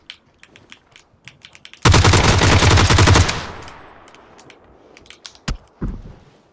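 Rapid automatic gunfire rattles in a shooter video game, a loud sustained burst of about a second and a half following scattered quieter clicks and thumps, then a couple of isolated sharp shots as the noise trails off.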